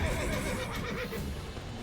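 A horse neighing in the video game Witcher 3, a loud whinny set against a busy, dense background of game sound, with no speech.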